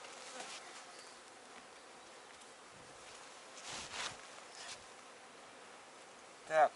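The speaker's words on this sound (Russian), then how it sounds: "Пчелок сметаем лишних." Honeybees at an apiary hive hum in a faint, steady buzz, with light rustling and a quiet voice now and then on a windy day.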